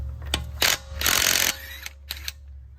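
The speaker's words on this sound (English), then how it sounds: "I'm going to be taking the lug nuts off" A socket wrench with a 20 mm deep well socket ratchets lug nuts off a raised 2013 Dodge Journey 3.6 SXT, in short close clicking bursts with one longer run and brief pauses between.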